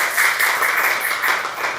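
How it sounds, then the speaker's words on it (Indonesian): Schoolchildren in a classroom clap together, a steady, close burst of many hands patting quickly for under two seconds, with no voices over it. "Oke, tepuk tangan untuk kita hari ini."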